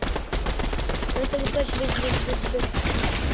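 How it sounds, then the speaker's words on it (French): Rapid bursts of gunfire crackle in a Fortnite match, loud and dense, with a short rhythmic tonal pattern through the middle. "Ouais, à gauche, ça me tire dessus aussi là-bas."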